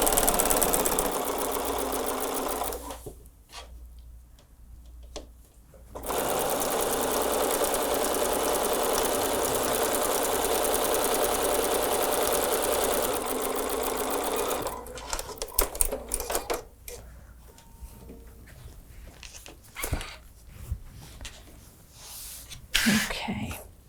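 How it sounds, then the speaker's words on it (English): Close sewing machine stitching a holiday table runner, a brief run then a long steady stretch of loud whirring, followed by choppy short bursts and handling noises. "I'll just sew this real quick."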